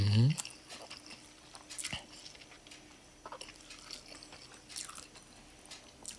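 Someone eating khanom jeen rice noodles with pla ra fish sauce: soft, close chewing and wet slurping bits in small irregular bursts, with voices in the background.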